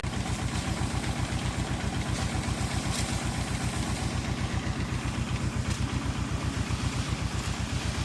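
A tractor engine runs steadily, powering a pesticide sprayer with a tank and pressure spray gun in a field: a continuous low, rhythmic chugging thrum, close and even throughout, with no voices.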